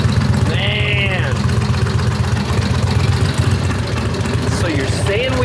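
An old Harley-Davidson 45 motorcycle engine that sat for over 50 years idles steadily up close, a low, even, loping rumble that runs throughout, with faint voices and some higher-pitched squeaks over it.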